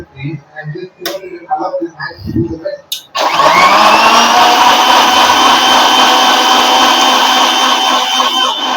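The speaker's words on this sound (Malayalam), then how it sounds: "കുറച്ച് പാലും കൂടി ഒഴിച്ച് മിക്സിയിലൊന്ന് അടിക്കണം" A mixer grinder runs at full speed blending milk for a tender coconut pudding, a loud steady motor whir starting abruptly after some quieter kitchen handling sounds and holding on without pause.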